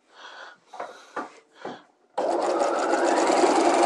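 A sewing machine stay stitches one layer of a dress bodice along the armhole seam allowance, entering after a few short breathy sounds with a loud, steady, close whir that runs to the end.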